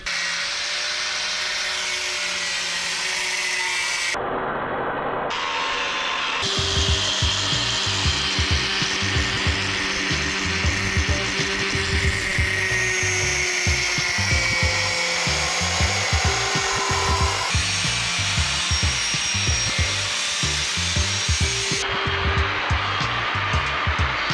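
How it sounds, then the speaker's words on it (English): An angle grinder cuts into a car's subframe with a loud, harsh whine and gritty rasping, briefly pausing and restarting, with rhythmic low thumping under the steady cutting noise. "we need to use the angle grinder to cut some stuff out"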